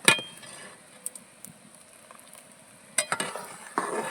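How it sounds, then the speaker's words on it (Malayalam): Homemade jam thickening in a pan as it is stirred, with soft bubbling and occasional sharp clinks and scrapes of a spoon against the pan, a few loud strokes at the start and again near the end, close up. "ഇനിയും കുറേ സമയം ഇങ്ങനെ ഇളക്കിക്കൊണ്ടിരിക്കണം കേട്ടോ"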